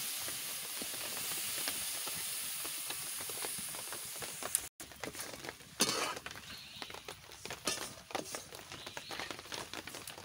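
Jaggery heating in a pan for coconut laddoos, a steady sizzling hiss that gives way to irregular crackles and scraping clicks, fairly faint and close.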